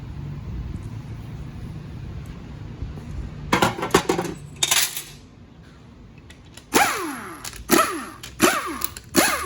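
Small steel check balls and parts from a used Ford 4R100 transmission valve body clattering and rattling onto a hard surface in several bright, metallic bursts, close by after a quiet hum, with no talking.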